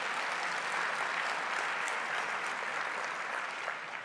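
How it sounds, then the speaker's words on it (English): A crowd at a political address applauds continuously, a dense wash of clapping at moderate volume with no voices over it. "Give yourself a round of applause for the great work that La Raza does."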